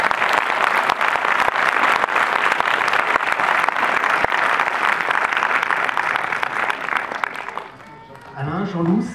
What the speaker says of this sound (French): Voilà, applaudissements. Bravo.